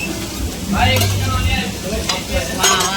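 Food fries in oil at an eatery, a close sizzling hiss with stirring and scraping sounds, and faint voices and kitchen noise in the background.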